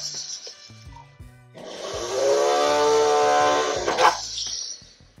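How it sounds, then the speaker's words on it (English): A drill press or flex shaft bores a jump ring hole in jewelry metalwork, a loud sustained whirring grind for about two seconds after a quieter start, then winding down. "you can drill with a drill press, or you can drill with your flex shaft"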